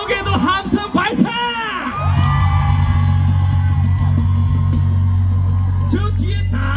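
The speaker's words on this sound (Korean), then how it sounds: "함성 한번 질러주셔서 5초간 함성 발사!" After a few seconds of loud voices shouting near the microphone, a festival concert crowd at Peak Festival 2024 rises into a long, sustained roar of cheering and screaming over a low hum, fading slightly toward the end.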